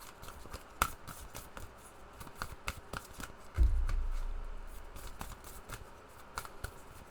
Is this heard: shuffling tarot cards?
yes